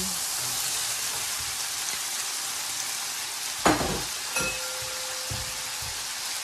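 Onion frying in a pan for steak fajitas, a steady dense sizzle throughout with a sharp utensil clatter partway through and a few lighter scrapes after.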